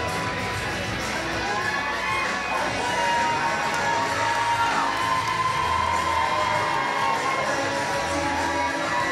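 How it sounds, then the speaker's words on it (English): Loud, dense crowd cheering and ovation at an indoor professional wrestling submission match, sustained roar with shouts and whoops throughout, close and filling the whole span. "listen to the ovation from the crowd"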